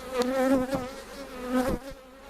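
Honeybees buzz close at a spring hive, a steady tonal drone with wavering pitch and a few sharper passes, heard alone without talk.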